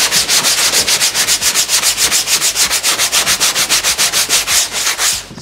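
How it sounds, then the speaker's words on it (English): A DA (dual-action) sander works over motorcycle seat foam made from pool noodle and camping mat, giving a loud, steady rhythmic rubbing whir with fast regular pulses that continues close up and alone for the whole stretch. "then we'll use the DA sander"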